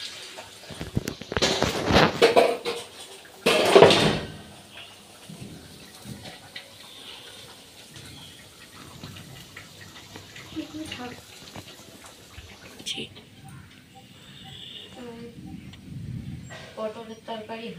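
Dishes and utensils are washed under running water at a kitchen sink, with splashing bursts early on giving way to quieter trickling and clatter, and someone talks intermittently.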